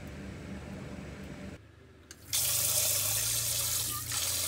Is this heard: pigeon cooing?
no